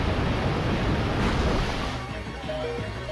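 In Pokémon Moon, the Muddy Water attack crashes down as a loud, continuous rushing surge of water that fills the whole stretch, with battle music tones emerging faintly as it fades.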